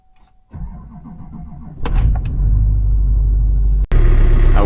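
A Duramax diesel pickup truck engine cranks and catches with a loud, close rumble, then settles into a deep steady idle, with a sharp clunk near the end.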